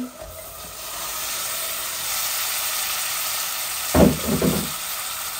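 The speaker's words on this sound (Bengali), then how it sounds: "এই যে মিটগুলাও এখন ঢেলে দিচ্ছি।" Meat hits a hot pan for a meat and potato bhuna: a steady, close sizzling hiss, with a short burst of clatter and stirring near the end.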